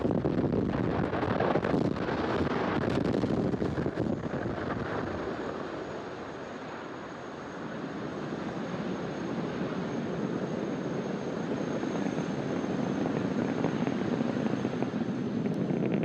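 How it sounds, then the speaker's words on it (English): A SpaceX Falcon Heavy lifts off from Launch Complex 39A at Kennedy Space Center, a dense, continuous rumbling roar with wind buffeting that stays loud and steady throughout, dipping briefly midway. "Falcon Heavy has successfully lifted off from Launch Complex 39A at Kennedy Space Center"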